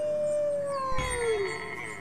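A single wolf howl in a video game rises and slowly falls in a long, clear tone, fairly close and alone.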